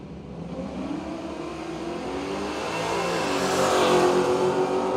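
Two drag racing cars, an HK wagon and a 780-powered car, launch side by side down the strip, their engines roaring loudly and rising steadily in pitch and volume as they accelerate away.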